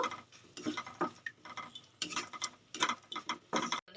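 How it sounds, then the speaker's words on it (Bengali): Spices for a Bengali mustard rui fish curry, with fresh green chilli and a little chilli powder, are stirred in a pan: uneven bursts of scraping and clinking from a utensil, close and fairly loud, with short pauses and no talking. "এবার একটু নেড়ে ছেড়ে নেব"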